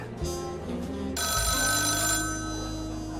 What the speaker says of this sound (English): A phone call from Coralie's mother interrupted.